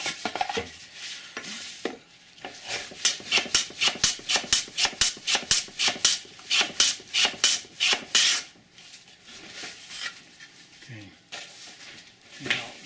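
Wood being cut with a chamfer along its edge for a bookcase: a quick run of rhythmic, close rasping strokes, roughly a dozen in succession, with quieter handling before and after.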